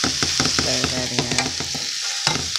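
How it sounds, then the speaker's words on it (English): A spoon scrapes and knocks rhythmically against a pan as jackfruit frying in oil is stirred, with repeated close clanks over a steady sizzle and no talking. "I am basically just trying to get a good stir."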